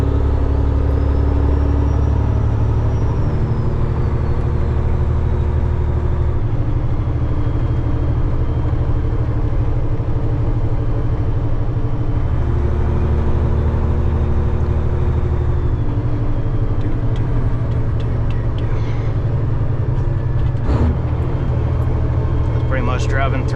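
A truck towing a trailer in 7th gear at about 20 to 25 mph, a steady loud engine drone and road rumble inside the cab, with someone talking over it.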